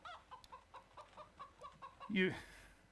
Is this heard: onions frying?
no